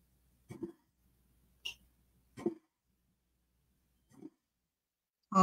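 A pet dog or cat gives a few short, separate coughing hacks with gaps between them, quiet and close, then a louder burst at the end.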